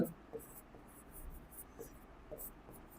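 Pen or marker strokes during a Class 12 physics lesson on electromagnetic waves, a series of quiet, short scratchy bursts in a quiet room.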